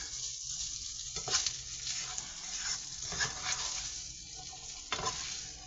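Onions and vegetables fry in a pan with a steady crackling sizzle, close and moderately loud, broken by a few sharper stirring scrapes and clatters. No one speaks.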